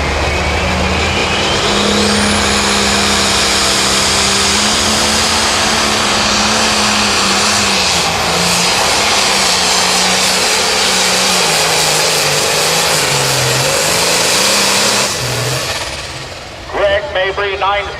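A 9500 Limited Pro Stock pulling tractor with a 680 cubic inch engine roars at full power during a pull at a Mound City, Missouri event, loud and sustained for about fifteen seconds before cutting off, with an announcer talking over it.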